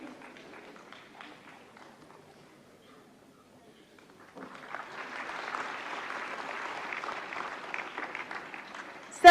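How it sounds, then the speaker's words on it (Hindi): Audience at a national film awards ceremony in New Delhi's Vigyan Bhavan bursts into steady, sustained applause after a quieter stretch of murmur, the clapping continuing evenly to the end. "मंच पर रजत कमल ग्रहण करने के लिए पधारते हुए जोरदार तालियों से स्वागत करिए"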